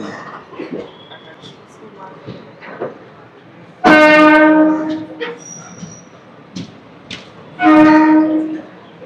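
Train 17210 from Kakinada Town to SMVT Bengaluru runs with a steady rumble under chatter from passengers nearby. Two loud, sustained horn blasts rise above the noise.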